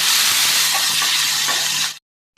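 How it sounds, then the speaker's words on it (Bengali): Dry red chillies, bay leaf and cumin spluttering in hot white oil in a kadai, a steady close broadband sizzle with faint stirring clicks that stops abruptly near the end. "এবার কড়াইতে দিয়ে দেবো শুকনো লঙ্কা, তেজপাতা আর জিরে আর এলাচ আর দারচিনি পেস্ট"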